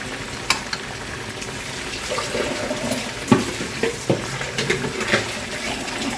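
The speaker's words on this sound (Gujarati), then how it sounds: "ધીમા ગેસે આપણે તળીશું તો અંદર સુધી સરસ તળાઈ અને ક્રિસ્પી થશે" Oil sizzles and crackles steadily as corn vada fritters fry over low heat, with occasional sharper pops and clinks of a utensil stirring in the pan.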